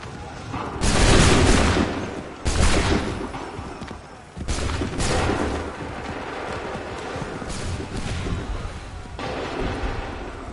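Musket volleys from Assassin's Creed III boom in several heavy bursts, loud and echoing, each followed by a rumbling tail of scattered shots with faint battlefield noise.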